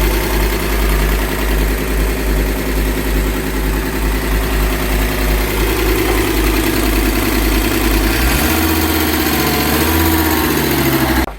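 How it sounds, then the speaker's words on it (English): A Fiat Coupe engine running steadily near the listener, a continuous idle with rising revs; pitch shifts lower and rougher near the end before cutting off. "it revs, it doesn't sound too bad, it hasn't cut out again"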